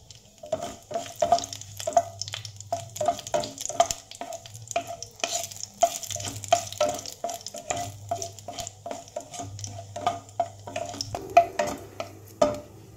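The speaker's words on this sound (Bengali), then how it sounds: "মশলাটা ভাজা হয়ে গেছে" Black cumin and dried red chillies sizzle in hot mustard oil while a utensil stirs and scrapes the pan in a steady, repeated rhythm, with no talking.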